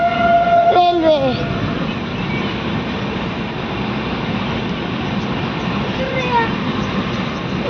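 A railway train passes close by with a steady, loud rumble, and a brief horn or whistle tone sounds near the start; a voice talks over the continuous noise.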